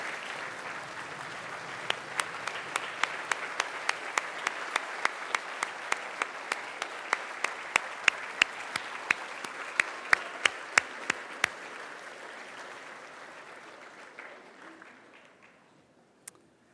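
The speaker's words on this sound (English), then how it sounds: "Students, you can rise and you can applaud your parents right back there." Students rise to applaud their parents at a Wellesley Public Schools ceremony, sustained crowd clapping with sharp individual claps standing out, fading away toward the end.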